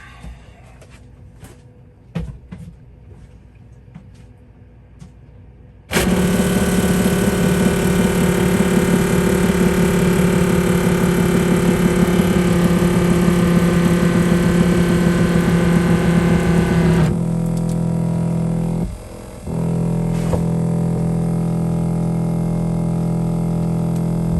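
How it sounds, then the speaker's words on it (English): A freshwater pump starts abruptly after quiet handling noises and runs with a loud, steady motor hum for about ten seconds, then cuts to a lower drone with a brief dip, as if purging air from the line. "So I'm going to go turn the pump on, see what happens."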